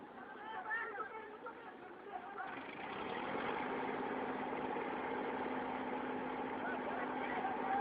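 A running tractor engine idles with a steady, mid-pitched hum that starts a few seconds in and holds evenly, while several people talk and shout excitedly nearby.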